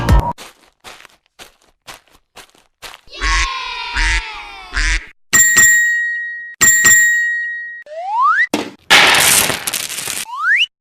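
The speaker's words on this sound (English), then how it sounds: "Duck." A duck quacks in a quick burst of several nasal calls, set among bright dings, whistle-like rising tones and clicks from a lively children's song.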